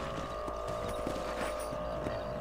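Horse hooves clip-clop at a steady walking pace in Red Dead Redemption, a soft rhythmic patter beneath a constant low droning background.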